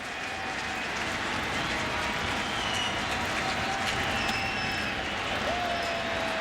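A baseball stadium crowd on its feet cheering late in a Phillies–Cardinals game, heard as a steady, distant wash of roaring and clapping that fills the whole clip.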